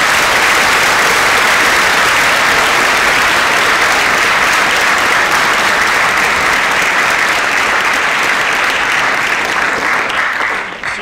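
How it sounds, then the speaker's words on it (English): Loud, sustained applause from a school assembly audience, dense and even clapping from many hands lasting about eleven seconds before tapering at the very end. "One big round of applause, everybody."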